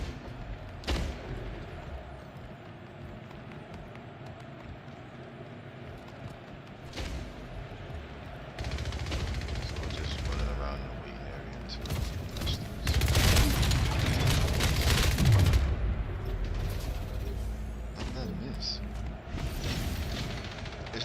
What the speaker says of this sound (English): this is a rocket launcher I'm holding